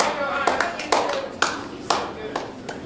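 Scattered clapping greets sponsors at a club squad-numbers launch, a handful of distinct sharp claps standing out over a murmur of voices and background chatter, fairly close and uneven in rhythm.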